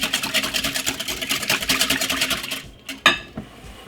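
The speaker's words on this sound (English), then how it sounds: "Give it a whisk." A whisk beats Yorkshire pudding batter seasoned with coarse pepper and salt, a fast, steady rhythmic clatter against the bowl that stops after a few seconds, followed by a couple of sharp taps.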